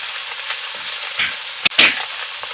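Mourala fish fry in hot oil in a pan, making a steady bright sizzle broken by a sharp knock and a short burst of spitting.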